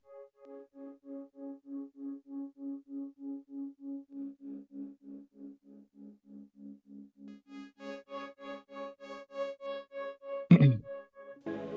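Dry synth melody in Ableton Live 12 with no Roar effect, a pulsing repeated tone that shifts pitch and thickens toward the end, ending in a sharp burst, quiet and without voices.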